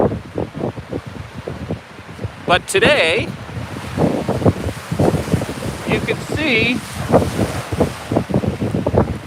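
Strong easterly storm wind buffets the microphone over Cameron Lake, with rough waves churning underneath; someone talks over the steady roar throughout.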